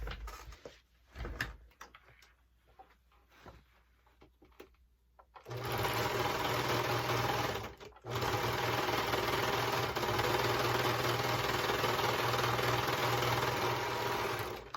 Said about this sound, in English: But before I do that, I want to serge this edge.